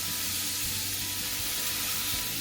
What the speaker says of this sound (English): Get that nice sizzle going on.